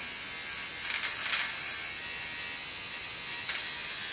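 An electric nose hair trimmer buzzes steadily and close up while trimming mustache hairs, a constant high whine with brief louder rasps as it cuts.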